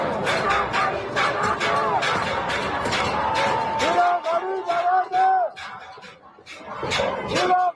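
A crowd of protesters in Punak, in the Iranian capital, chants and shouts in rhythmic bursts, with individual voices rising above the mass, fairly close and loud.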